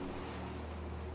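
Waves wash steadily against a night-time harbour dock, a continuous low surging rumble with breezy wind noise over it, no voices.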